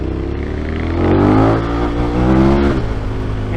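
A motorcycle engine revs hard and loud during a wheelie on a French road tour, rising and falling in pitch with a strong, steady roar throughout.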